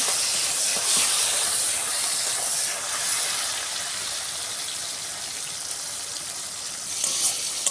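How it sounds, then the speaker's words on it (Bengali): Spice paste frying with tomatoes in a pan makes a steady, fairly loud hiss and sizzle that holds evenly throughout, without any talking. "এবার একটু এটাকে মশলাটাকে ভালো করে টমেটোর সাথে ভেজে নেব"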